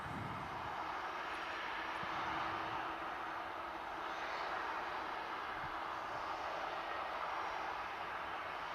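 An EasyJet airliner at Manchester Airport produces a steady, hissing engine roar at moderate distance, swelling slightly in the middle and holding on without talk.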